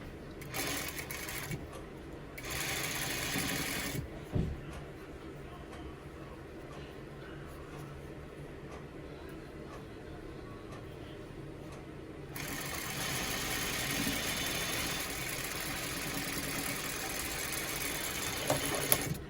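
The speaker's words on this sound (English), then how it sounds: "So, like you see, I'm sewing the top of the lining" Juki straight stitch sewing machine running through a face mask lining in steady bursts, the fast needle chatter stopping and restarting with quieter handling pauses between runs.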